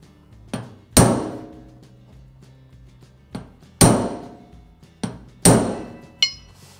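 A hammer strikes a chisel to shape car body metal: sharp metallic blows in loose pairs, a lighter tap followed by a heavier ringing hit, loud and close with brief decays between.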